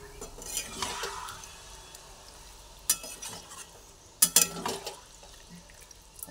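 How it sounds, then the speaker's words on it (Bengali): Jackfruit curry being stirred with water in a pot, soft wet sloshing with sharp spoon clinks against the metal, the loudest a cluster of knocks near the end, close and without talk. "আবার ভালোভাবে জলের সঙ্গে মিশিয়ে দিচ্ছি।"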